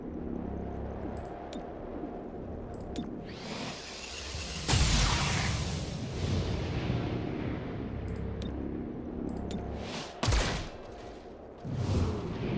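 Weapon fire in XCOM Chimera Squad lands as an enemy is shot: heavy blasts and whooshing impacts over a rumbling game soundscape, with a sharp burst near the middle and another toward the end.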